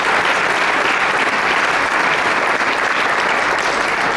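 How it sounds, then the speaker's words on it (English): Loud, steady applause from a breakfast audience at a chamber of commerce legislative event, honoring Alan Staggers on his retirement, a dense wash of many hands clapping continuously without speech. "Please give him a round of applause for his years of service."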